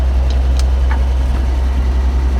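A Toyota 45 Series engine runs in gear as the vehicle reverses, giving an even, low rumbling drone at a constant level throughout, with no talking.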